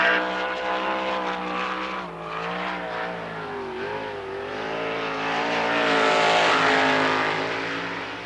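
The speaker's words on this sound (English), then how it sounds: "we got back-to-back Travis sprinters on the Speedway" Sprint cars race around the Lernerville Speedway dirt oval, a loud, high-pitched engine roar that wavers as the cars pass and swells to a peak before easing off.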